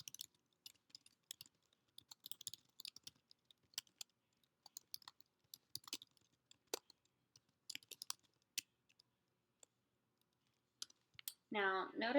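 Typing on a computer keyboard at a desk while editing note cards: quick, irregular clusters of light plastic key clicks with short pauses between bursts, close and fairly quiet, before a voice starts at the end.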